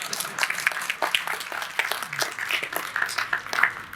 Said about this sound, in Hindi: डॉक्टर साहब धीरे धीरे ताली बजा रहे हैं